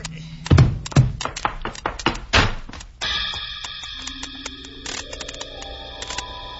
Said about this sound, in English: his arm went around, and I guess the butt of the gun went with it.